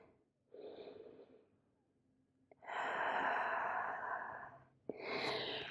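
Slow, audible breaths during a Pilates child's pose, a soft inhale followed by a longer, fuller exhale and another breath, close and quiet with no speech.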